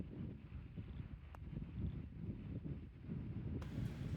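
Strong wind sweeping across a golf course buffets the microphone with a continuous low rumbling roar that swells and dips, with a few faint clicks and no talking.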